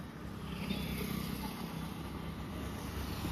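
A tractor passing by on a rural road gives a continuous, moderately distant engine rumble that holds steady for a few seconds.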